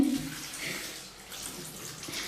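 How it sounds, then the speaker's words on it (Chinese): Water runs from a kitchen tap as vegetables are rinsed, a soft, continuous splashing hiss at low volume. "强子都在洗菜啊"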